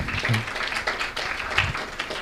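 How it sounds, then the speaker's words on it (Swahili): Audience applause at the Business SDG Awards 2023 for the winner NBC Bank, a steady burst of many hands clapping in a hall, dense and moderately loud throughout. "Makofi kwake, makofi kwa NBC."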